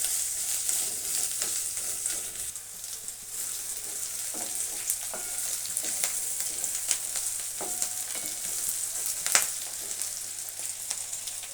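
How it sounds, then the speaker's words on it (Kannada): Cinnamon pieces, cloves and cardamom roasting in a pan for chicken green chilli sambar, a continuous sizzle with scattered scraping taps of stirring and occasional sharper pops. "ನಾಲ್ಕೈದು ಚಕ್ಕೆ ಚೂರು ಮತ್ತು ಲವಂಗ ಮತ್ತು ಏಲಕ್ಕಿ ಇಷ್ಟನ್ನು ಚೆನ್ನಾಗಿ ರೋಸ್ಟ್ ಮಾಡ್ಕೋಬೇಕು"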